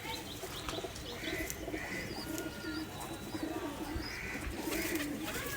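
Faint cooing from male and female Giribaz pigeons repeats in gentle, low phrases, mixed with a few light chirps and soft background rustle.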